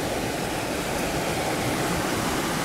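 Santa Cruz River water flowing steadily, a dense broadband rush like a stream or small cascade, close and continuous with no pauses and no voices.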